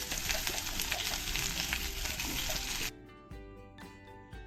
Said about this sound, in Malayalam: ഇതെല്ലാം നന്നായിട്ടൊന്ന് വഴറ്റിയെടുക്കാം.